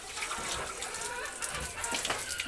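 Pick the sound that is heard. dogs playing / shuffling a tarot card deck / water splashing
water splashing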